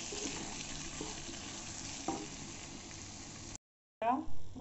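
Potatoes frying slowly in a pan on low heat, a steady soft sizzle with occasional stirring clicks, briefly cut off and then resuming with a spoon scraping close by.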